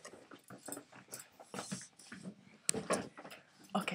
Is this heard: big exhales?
no